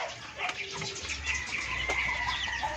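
Young chickens hatched in an incubator, a flock of eight, giving soft clucks and chirps close by among light background noise.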